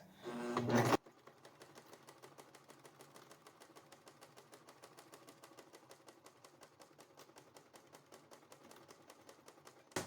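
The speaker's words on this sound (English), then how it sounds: "I think my sewing machine is shaking the camera" A home sewing machine stitches fabric strips together for a cake pan band, a fast steady run of mechanical needle clicks that starts after a short burst of handling and continues alone at close range.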